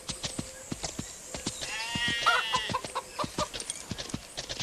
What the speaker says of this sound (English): Wait, those aren't cows. They're sheep.